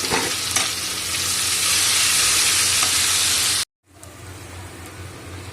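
Onions hit hot oil in a pan where pomfret fish was just fried, a loud broad sizzle that swells and then cuts off abruptly before resuming more quietly with a low rumble beneath.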